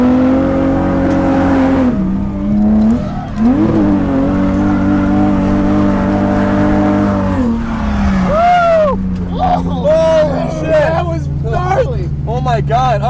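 BMW E30 drifting a full road course, engine revving hard with pitch rising and falling through gear changes and slides, loud and close with tyre squeal, while excited voices talk over it.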